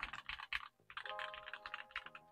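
Typing on a Drop CSTM65, a thin 65% keyboard with a polycarbonate plastic case: bursts of quick, fairly muted keystrokes close up, pausing briefly before a second run of rapid clacking.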